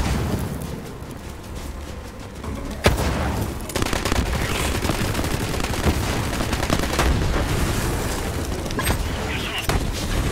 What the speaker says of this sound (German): Die SMG, die ich hier in der Hand habe, kann nicht schnell genug schießen